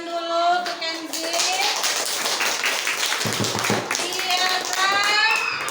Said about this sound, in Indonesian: Tepuk tangan dulu untuk Kenzi.